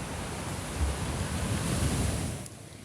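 Sea waves wash against the coast as a typhoon approaches, with strong wind. It is a steady, fairly quiet rushing roar with no voices, easing slightly near the end.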